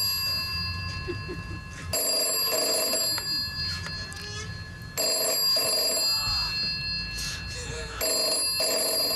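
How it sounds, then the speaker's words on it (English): A telephone rings in a radio studio. It gives repeated bursts of bright electronic ringing at regular intervals, with quiet background sounds between the rings. "you've actually picked a phone up. It's meant to stop ringing"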